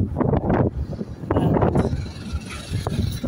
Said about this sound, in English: Because it's windy, obviously.